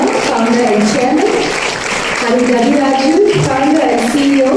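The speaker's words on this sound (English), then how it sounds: "Ladies and gentlemen, a round of applause for Sasi Nahara, founder and chairman," An audience claps at a product launch event in India, with steady applause running throughout while a voice speaks over the clapping.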